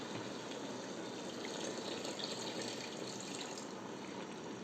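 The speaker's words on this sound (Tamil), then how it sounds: "தண்ணியை கொஞ்சம் ஆட் பண்ணிக்கலாம்." Water poured into a pepper chicken gravy in a cooking pan, a steady, faint splashing gush that continues evenly for a few seconds.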